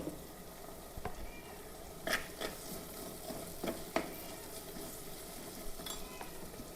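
Onion, green chilli, ginger and curry leaves sauté in a pan with a constant soft sizzle, broken by a few sharp clinks and scrapes from stirring.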